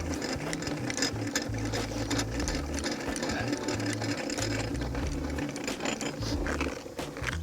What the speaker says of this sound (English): put the brace onto the hex drive and wind the leg down